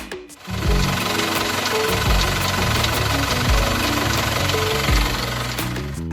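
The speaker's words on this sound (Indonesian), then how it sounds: "mesin dari Isuzu Traga yang Euro 2 ataupun Euro 4 juga dikenal sangat kasar dan sering mengeluarkan suara aneh pada saat dinyalakan" Diesel engine of an Isuzu Traga pickup running roughly, a loud continuous knocking clatter with uneven thumps throughout, close up and alone with no talking.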